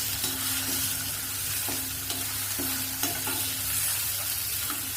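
Adamant creeper being sautéed in a pan for chutney, a steady sizzle with scraping stirs and clicks of the spoon against the pan, at moderate loudness with no voices.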